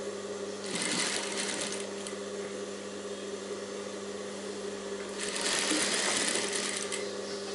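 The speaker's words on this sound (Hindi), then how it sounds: "उतनी सिलाई दूसरी स्लीव्स में लगा देते हैं।" A sewing machine stitches the sleeve of a princess-cut blouse, running in two steady, rapid whirring bursts of about a second each, separated by a quiet pause under a constant low electrical hum.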